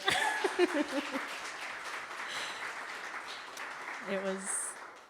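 A poetry, music and film event audience gives modest applause, light scattered clapping that starts after a few spoken words, carries on for several seconds and is topped by a short tonal sound near the end.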